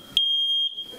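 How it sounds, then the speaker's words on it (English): A newly mounted smoke alarm being tested gives one loud, piercing, steady electronic beep lasting about half a second, close by in a quiet room. "mounted the smoke alarms, and then he put them to the test."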